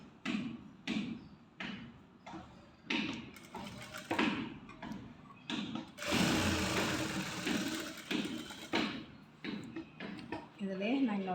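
A sewing machine stitches a maxi top in short, rhythmic bursts of rapid mechanical whirring, then runs in one longer continuous stretch, while someone talks between runs.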